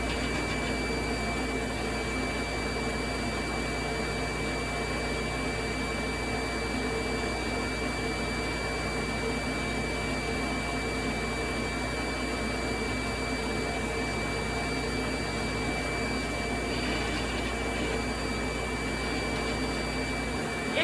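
A screen printing vacuum table runs with a loud, constant motor drone and a thin high whine, holding steady for the whole stretch with a slight shift near the end.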